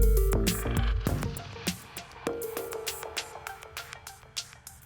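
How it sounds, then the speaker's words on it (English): In Ableton Live, a drum-and-synth loop is swept by a closing high-pass filter while a ping pong delay opens: the low end thins and fades and repeating echoed hits trail off, with no talk. "We're going to throw in the ping pong delay right after the high pass filter"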